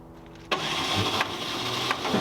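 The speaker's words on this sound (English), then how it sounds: "That's just starter now. Okay, so right now it did engage the engine." The starter motor of a Chevy Apache truck engine kicks in abruptly and cranks steadily with a whirring, rhythmic churn, close and loud, without the engine catching.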